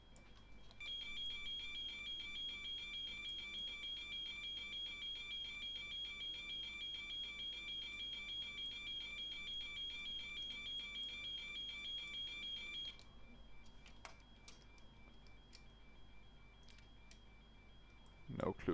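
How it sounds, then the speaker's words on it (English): Steady repeating electronic beeping inside a PMDG 777 cockpit in a flight simulator game, a continuous tonal alert pulsing for about thirteen seconds before stopping, followed by quieter clicks and faint background hum. "What's the beeping for?"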